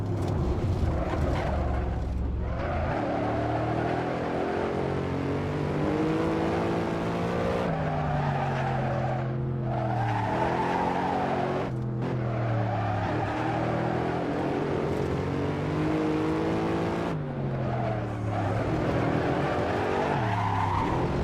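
A BMW M5 F90 drifts in the Assetto Corsa racing game, its engine droning loudly and steadily while the revs swoop up and down and the tires squeal almost without a break.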